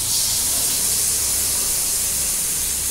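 Vanjaram fish pieces frying in oil on a low flame give a steady, close, hissing sizzle that holds evenly throughout with no voices.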